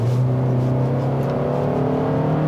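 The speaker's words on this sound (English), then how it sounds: "I'm definitely noticing just how much louder the engine and the exhaust is in this vehicle" The engine of a 2019 Fiat 500 Turbo drones steadily close by while accelerating, a low harmonic hum that holds level rather than climbing sharply, with a faint whir on top.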